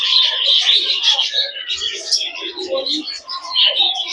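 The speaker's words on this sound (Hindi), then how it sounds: "कितनी प्यारी चिड़िया है ना ये," Small colourful birds chirp and tweet busily in an aviary at a children's fun centre in Delhi, a dense, continuous chorus of overlapping high calls close by, with no talk.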